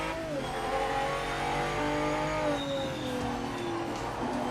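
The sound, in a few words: tyre brake squeal in racing video game PMR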